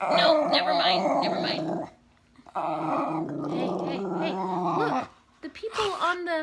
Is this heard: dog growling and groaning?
yes